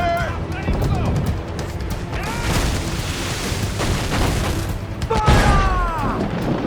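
Cannons fire in a naval battle in Assassin's Creed IV: Black Flag, heavy booms landing repeatedly amid battle clamour, while voices shout over them.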